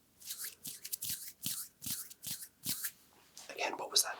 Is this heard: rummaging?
yes